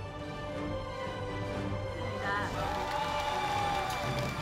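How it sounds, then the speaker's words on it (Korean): A crowd applauds and cheers at the opening of a student creativity and invention contest during a youth invention festival, a steady, dense wash of clapping and voices that holds for the whole stretch. "힘찬 박수와 기대감으로 대회장이 들썩이는데요"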